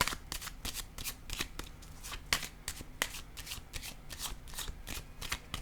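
Tarot or oracle cards being shuffled and laid down during a card reading, a steady run of crisp riffling flicks and soft slaps repeating close up across the whole stretch, with no voice.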